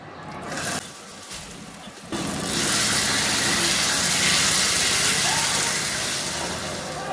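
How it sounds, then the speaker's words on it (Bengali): Ground bean mash (shim bhorta) with raw garlic hits a hot pan and fries with a loud, broad, steady sizzle that rises after a couple of seconds and continues close by. "এখন এর মধ্যে আমি ওই বেটে রাখা, গ্রাইন্ড করে রাখা, ব্লেন্ড করে রাখা ভর্তাটা দিয়ে ভেজে নিব।"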